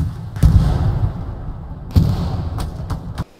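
Artillery shells landing in Hell Let Loose, a World War II shooter game: two heavy low booms about a second and a half apart with rumbling tails, followed by a few sharper thuds, fairly loud and distant-sounding, no talking.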